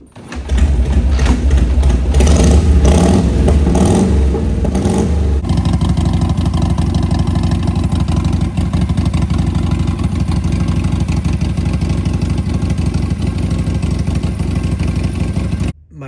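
A 1964 Harley-Davidson Panhead DuoGlide engine fires up with loud revving bursts, then settles into a steady, close, rumbling idle that runs alone for the remaining seconds before cutting off.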